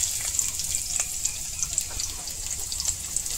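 Chopped onion frying in hot oil in a pan gives a steady, bright, close-up sizzle with faint crackles and no voices.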